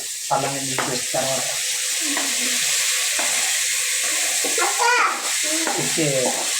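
Tomato pieces for a munakkada fish curry base sizzle in a hot pan with a steady frying hiss, while a voice talks intermittently over the cooking sounds.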